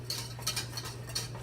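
A whisk clicks against a bowl while fat-free vegan Thanksgiving gravy is stirred, several quick light ticks spaced irregularly over a steady low hum.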